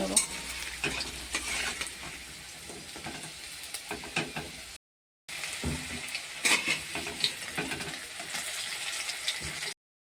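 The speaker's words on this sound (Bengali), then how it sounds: "ওই মাছ ভাজার তেলে আমি ভেজে নেব আলুগুলো" Potatoes fry in leftover fish-frying oil while being stirred, a steady close sizzle with scraping stir strokes, briefly cut by a short gap before the frying resumes at the same level.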